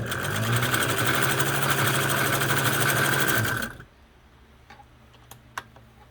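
Kenmore sewing machine stitching fabric, a steady fast mechanical whir and ticking for about four seconds before stopping abruptly, followed by a few faint clicks.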